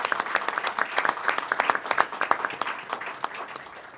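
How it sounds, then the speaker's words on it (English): An audience at a press event held by New York Governor Cuomo breaks into warm, sustained applause, many hands clapping together steadily and evenly before it slowly thins out. "Let's give him a round of applause."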